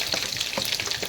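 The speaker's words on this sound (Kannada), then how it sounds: "ನಂತರ ಮೊದಲೇ ಹಚ್ಚಿಟ್ಟುಕೊಂಡ 2 ಈರುಳ್ಳಿ ಸಹ ಹಾಕ್ಕೊಂಡು ಬೇಯಿಸ್ಕೊಳ್ಳೋಣ" Chopped onions frying in a pan for bisi bele bath, a steady close sizzle with a few soft clicks of stirring, no voices.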